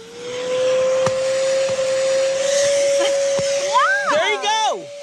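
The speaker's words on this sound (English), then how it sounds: "Now let's see what kind of suction you've got." An H2O Vac Turbo vacuum cleaner running on suction, shown in a TV shopping demonstration, gives a loud, steady whining hum that holds throughout, while voices briefly break in toward the end.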